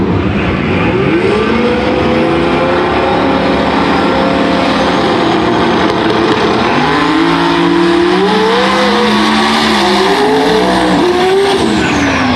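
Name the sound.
Toyota Supra drag race car on the racetrack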